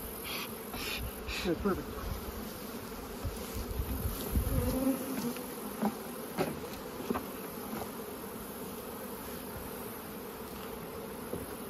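Honey bees buzz steadily around an open hive during a mid-season split, a dense continuous insect drone with a few louder passes close by and a brief spoken remark.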